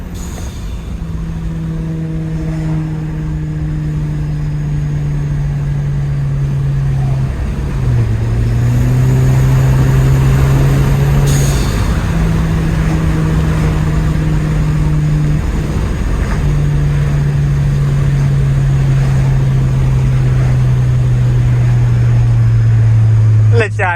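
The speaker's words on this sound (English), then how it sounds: "Let y'all hear that downshift." A turbocharged Kia car's engine hums loudly and steadily from inside the cabin, stepping down in pitch at a couple of distinct downshifts and then climbing again under sustained road rumble.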